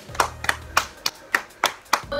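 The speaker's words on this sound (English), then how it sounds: "we're gonna clap our hands" Hands clapping indoors during a casual gymnastics lesson between cousins: seven sharp claps at an uneven, roughly quarter-second pace, close and moderately loud, with a brief low hum early on and no speech.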